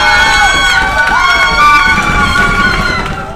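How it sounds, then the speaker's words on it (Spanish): A crowd at a live singing competition cheers and shouts loudly for the first-place winner, with excited voices and high-pitched whoops close by that fade toward the end. "Fuerte el aplauso para el primer lugar, Luisa."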